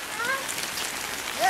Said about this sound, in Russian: Дождь очень сильный пустился.